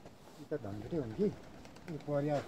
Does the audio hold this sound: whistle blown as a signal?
no